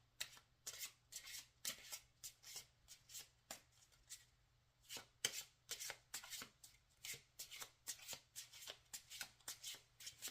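A deck of cards being shuffled by hand during a solo card game, repeated quick riffling bursts in a steady rhythm, close and clear over a faint low hum.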